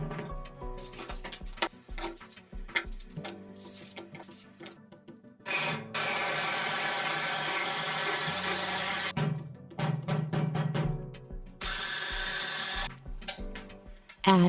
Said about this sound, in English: Finely prepared onion and garlic in a blender.